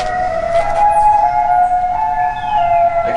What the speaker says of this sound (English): I can play siren sounds from